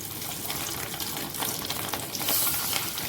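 Fish roe fritters fry in hot oil in a home kitchen, giving a steady close crackling sizzle that swells slightly near the end, with no voices.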